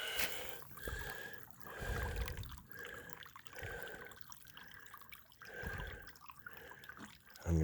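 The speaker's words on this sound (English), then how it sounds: "This is great spring water." Spring water runs steadily outdoors on a summer day along the Continental Divide Trail, a close, continuous trickling with small splashes and no talking.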